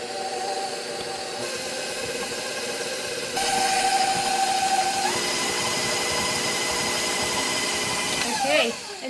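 Electric mixer beating butter and sugar for a layered banana cake, a steady motor whine that shifts pitch as the beaters move through the bowl, running continuously with a clatter near the end.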